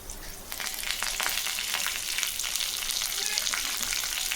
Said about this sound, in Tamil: இப்போ கறிவேப்பிலை போட்டுக்கலாம்